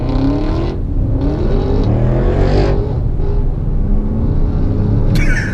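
Car accelerating hard while racing another car on a Florida highway, engine revving up in rising surges and gear changes over a heavy road rumble, loud and close from inside the vehicle.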